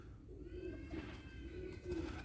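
Pigeons give soft, low repeated coos, faint and fairly close, with a light flutter of wings as a bird comes in to land.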